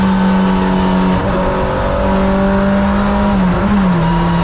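Touring race cars at Donington circuit during a CSCC Tin Top race, engines droning loudly and continuously with steady high-pitched tones that dip and shift as the cars pass.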